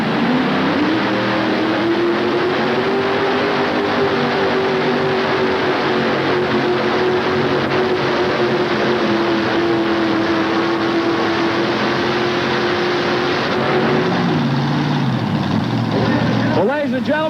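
A modified pulling tractor carrying multiple 2,482 cubic inch Chevrolet engines roars continuously at a 5800 class tractor pull in Louisville, a loud sustained drone that rises and falls before dropping off near the end, with a crowd and announcer beneath it.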